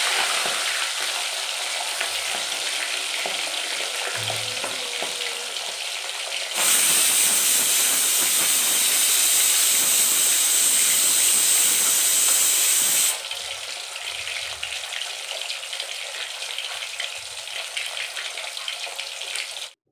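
Fish sizzling in hot oil in a pan, a loud continuous frying hiss that surges sharply louder midway, then settles back to a steady crackle.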